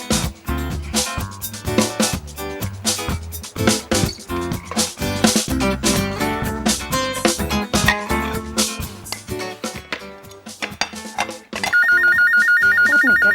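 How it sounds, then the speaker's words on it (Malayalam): A telephone bell rings loud and close on a cookery show set, a steady repeating electronic ring starting near the end after busy music-like sound. "ഫോൺ വരും."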